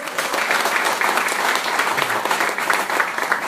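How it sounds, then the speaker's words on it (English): Loud, dense crowd applause and cheering at a political pep rally in Santa Cruz, close and sustained without a break for a few seconds. "Give yourselves a round of applause, Santa Cruz."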